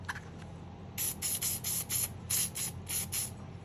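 A handgun compensator is sprayed with cleaner in about eight short, sharp hissing bursts in quick succession, quiet and close, with no talking.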